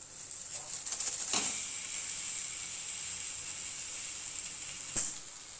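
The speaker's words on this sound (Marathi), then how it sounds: "आता सेम कढईत आपल्याला खवा भाजून घ्यायचा आहे।" Khoa, milk solids, roasting in a kadhai, giving a steady soft sizzle and hiss that runs the whole time with a couple of brief louder crackles, no talking.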